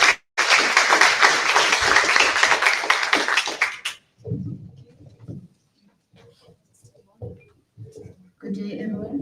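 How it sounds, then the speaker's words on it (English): Audience applause at the EC Innovation and Entrepreneurship Week awards ceremony 2025, a dense, loud burst of clapping lasting about four seconds that stops abruptly before a voice begins speaking. "and a round of applause for her"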